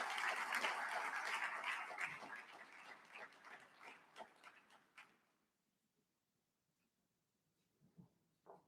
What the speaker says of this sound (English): Let's give another big round of applause for Dr.